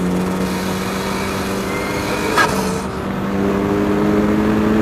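Ariel Atom 4 track car fitted with the Honda Civic Type R turbo engine, accelerating out of a corner at Thunderhill Lightning circuit: a steady, loud engine drone holds a constant pitch with a brief sharp transient midway.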